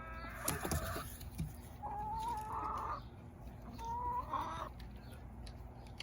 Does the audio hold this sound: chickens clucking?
yes